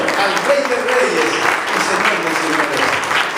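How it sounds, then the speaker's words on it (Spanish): Church congregation giving strong, sustained applause during a worship service, a continuous wash of clapping with a voice speaking over it. "Démosle un fuerte aplauso y adoremos al Señor"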